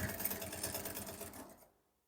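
A sewing machine stitches fabric for a man's shorts, its needle chattering in a fast, steady rhythm close by before stopping abruptly.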